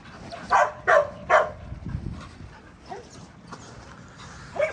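Dogs at a boarding and training kennel bark in three sharp, close yaps in quick succession, followed by softer whimpers and scattered distant barks, one last bark closing the stretch.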